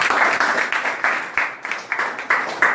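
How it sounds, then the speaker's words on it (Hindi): A small audience at a gathering with a state legislator claps in loose, uneven bursts, fairly close and loud, with distinct individual hand claps standing out. "जोरदार तालियां"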